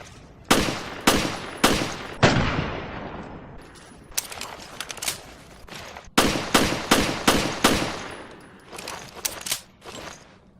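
Jill's Samurai Edge pistol fires in Resident Evil: Revelations, loud sharp game gunshots coming in quick bursts with short pauses and a brief mechanical reload sound between volleys.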